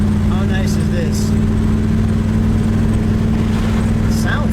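A 1961 Chevrolet Impala Sport Coupe bubble-top hardtop with a 348 V8 runs with a loud, steady low rumble close by, while people talk over it throughout.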